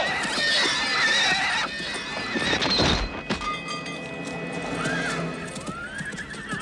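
Horse whinnying and neighing with clip-clopping hooves in an animated Rankin/Bass Return of the King battle scene, a loud continuous stretch with a sharp thud midway, the horse's cry rising over busy background sound.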